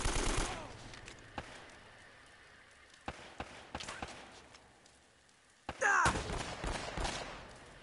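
Gunfire in the video game Uncharted: Drake's Fortune, with scattered sharp single shots, a loud burst near the start, and a louder sustained volley toward the end.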